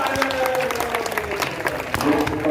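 Vigorous applause from a crowd at a Janmashtami fair poetry gathering in Maholi, a dense wash of clapping hands with a voice talking over it and a few sharper claps standing out.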